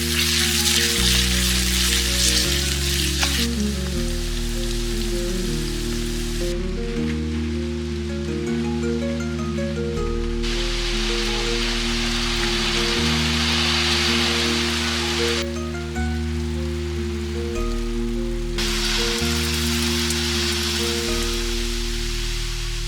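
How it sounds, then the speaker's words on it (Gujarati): Bay leaf, a half-inch cinnamon stick and sliced onion frying in hot cooking oil for a dhaba-style tindora masala, giving a steady, close sizzle with no talk, while sustained musical tones run underneath throughout. "કુકિંગ ઓઇલ થોડું ગરમ થાય એટલે એક તમાલપત્ર, 1/2 ઇંચ તજનું લાકડું, સ્લાઇસ ઓનિયનને સરસ શેકી લઈએ."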